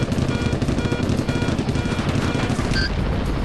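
Rapid automatic gunfire from an attack helicopter's cannon in the Apache Longbow Assault video game, a dense continuous burst of shots throughout, loud and close, with a brief electronic beep near the end.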